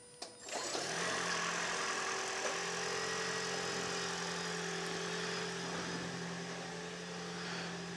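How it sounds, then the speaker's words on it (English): A hybrid car's internal combustion engine starts and settles into a steady idle, with an even hum and faint tonal whine held close and alone for several seconds. "The internal combustion engine is turned on"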